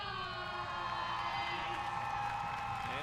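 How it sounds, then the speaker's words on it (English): A stadium crowd roars and cheers after a Halifax Tides FC goal against Ottawa Rapid FC in a Northern Super League soccer match, a dense sustained wall of voices and whoops that stays loud for the whole stretch. "the Tides, as a collective unit, letting out a roar of relief along with the crowd"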